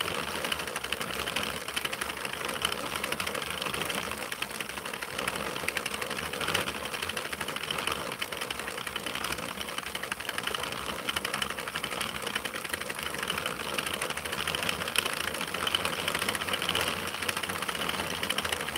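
A 32-pin circular knitting machine with its lid on runs steadily through rows, giving a continuous mechanical whir and rapid clatter at an even level throughout, with no talking.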